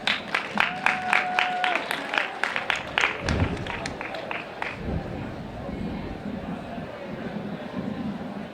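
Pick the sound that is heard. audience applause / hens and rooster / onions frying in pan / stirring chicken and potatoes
audience applause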